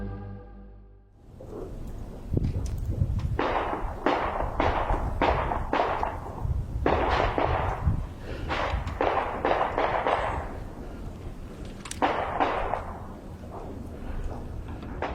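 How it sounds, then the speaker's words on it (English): A long run of loud bangs like gunfire near an abandoned building, repeated irregularly at a distance over a rumbling background. "he suddenly heard gunshots in the vicinity"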